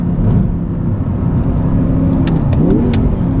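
An Audi R8 with a gated manual gearbox and V10 engine revs as the driver drops a gear, a loud, steady engine roar with a rising blip and faint road noise, heard alone.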